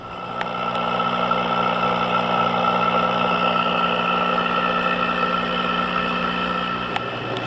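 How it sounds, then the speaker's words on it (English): An aquarium air pump pushes air through a small air stone in a simple hydroponic cloner, giving a steady, close electric hum with a soft, even hiss of bubbling that runs unbroken throughout. "Then we'll turn on the pump."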